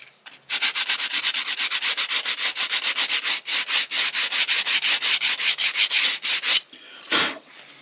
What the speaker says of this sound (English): we'll take a little bit of sandpaper and we'll sand that edge